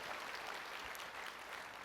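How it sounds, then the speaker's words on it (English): Audience applause in a conference opening session, a steady wash of many hands clapping that holds at an even level for about two seconds. "Give that school system a round of applause"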